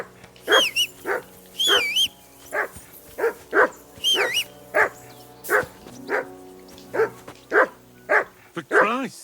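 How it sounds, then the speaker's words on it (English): Repeated dog barks in Kingdom Come Deliverance II, a dozen or so sharp yaps in a fairly regular pattern, with some whining, yelping tones mixed in. "Call off that damn dog before he wolfs down the last of our mates."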